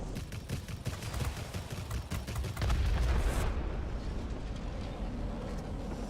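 Bomb blasts from a World of Warplanes dogfight involving a German Messerschmitt Me 262 HG III, heavy booming impacts over constant engine roar, with one loud sustained explosion swelling midway before settling into a steady rumble.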